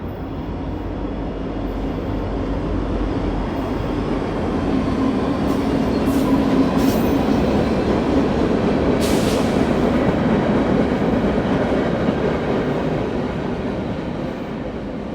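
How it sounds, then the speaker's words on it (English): A train rumbles past outdoors, loud and continuous for the whole stretch, with a steady low roar, faint rail clatter and a brief high squeal partway through, heard near a portable espresso setup. "There is going to be a train go by,"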